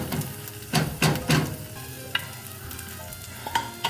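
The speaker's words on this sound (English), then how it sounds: "Here I come in with the rest bit of that dry white wine, okay?" Dry white wine poured into a pot of venison stew, a few loud scraping stirs and splashy bursts followed by a quieter steady sizzle with light clinks.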